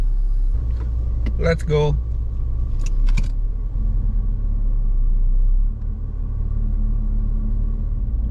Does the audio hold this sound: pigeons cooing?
no